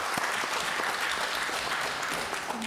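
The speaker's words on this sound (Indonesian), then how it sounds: "Kita kasih tepuk tangan." Members of parliament applaud at the close of a plenary session: a dense, steady wash of clapping from many hands that fills the whole stretch at a moderate, even level, with no voices over it.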